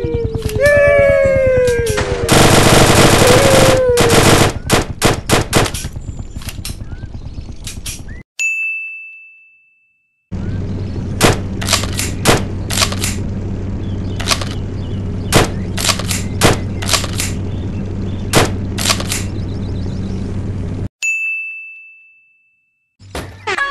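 Gun shots and reload sounds from the mobile game Dude Theft Wars: loud sharp repeated shots in close bursts, ringing metallic dings and clanks, and brief pauses with reload clicks between firing sequences.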